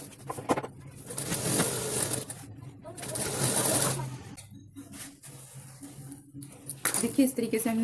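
A sewing machine runs in steady bursts while stitching elastic onto a palazzo, with someone talking over the machine and short pauses between runs.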